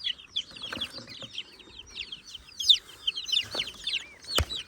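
Young chicks peep and cheep constantly in high, chirpy calls close by, a busy overlapping chorus with a few sharp knocks and rustles among them.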